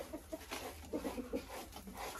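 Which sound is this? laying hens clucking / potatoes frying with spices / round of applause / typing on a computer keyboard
laying hens clucking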